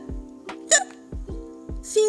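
A storyteller's voice imitates a hiccuping bean, giving short sharp hiccup sounds in a steady run of about five, close and clear, with no other talk.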